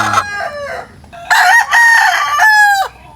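A rooster, a breeding cock kept with hens, crows loudly and close by, a drawn-out cock-a-doodle-doo following a few short clucking calls, with no talk over it.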